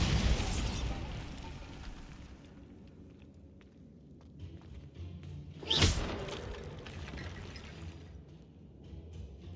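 A Bombarda spell explodes in Hogwarts Legacy with one sharp, loud blast near the middle, then a decaying rumble over a steady ambient bed and faint thuds.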